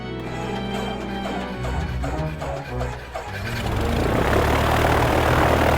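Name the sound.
airplane flying sound effect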